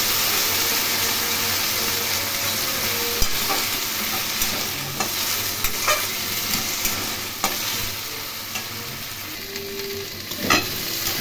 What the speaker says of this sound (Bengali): কেটে রাখা আলু এবং কচু দিয়ে দিলাম। এগুলো একটু ভালো করে লাল করে ভেজে নেব।